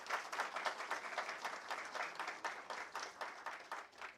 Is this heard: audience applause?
yes